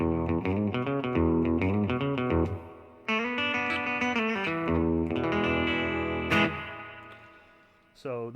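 Electric guitar played through delay and reverb pedals, a clean toned run of picked notes and chords with echoing repeats and a long reverb tail ringing out, steady and close, with a brief strum returning at the end.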